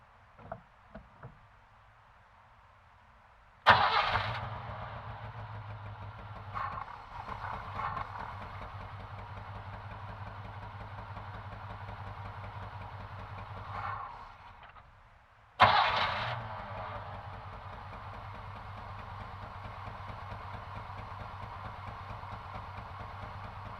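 A 1983 Chevrolet C10 pickup truck engine is cranked and catches twice. Each time it settles into a rough, steady idle, and between the two runs it stops for a moment.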